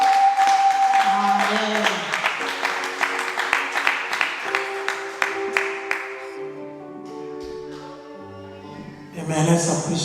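A church congregation claps steadily in rhythm over sustained keyboard music, and the beat fades as a voice speaks briefly near the end.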